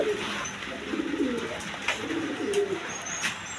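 Pigeons coo in soft, repeated low rolling calls amid a steady background hum at a wholesale pigeon sale, with a few faint chirps mixed in and no talking.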